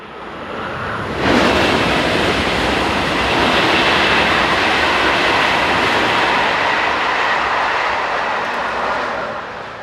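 Passenger train on a railway line near Silly, Belgium, rushing past close by with a loud, steady roar that builds quickly and holds for several seconds.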